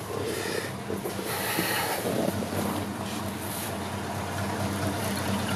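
A 1971 Chevy C10 Cheyenne pickup engine with dual side-exit exhaust runs in a steady, loud, deep rumble with a broad roar that barely varies, heard close up with no talking.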